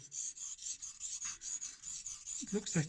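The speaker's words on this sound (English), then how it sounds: "I use push-pull motions to sharpen it" A Kai DM0700 damascus knife drawn in push-pull strokes across a new Shapton whetstone gives a steady, close scraping rasp that runs almost continuously, ending in a few heavier rubbing strokes.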